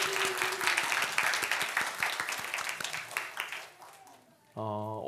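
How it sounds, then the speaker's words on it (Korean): A church congregation at a Sunday worship service claps in encouragement, a dense, steady burst of applause that thins and fades out, followed by a voice starting to talk. "고생하는 우리 스텝들 위해서 격려의 박수를 한번"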